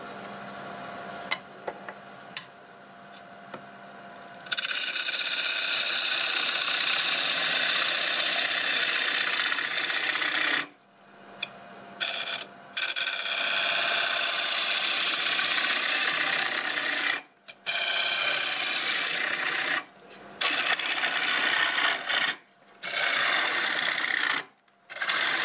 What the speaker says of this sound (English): I switched to a 1/2 inch bowl gouge here